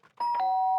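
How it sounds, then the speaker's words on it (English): A two-tone doorbell chime rings once, starting with a sharp strike and then a sustained ringing tone that holds steady and clear to the end. "The sharp sound of the doorbell pierced my sleepy haze and pulled me back to the real world."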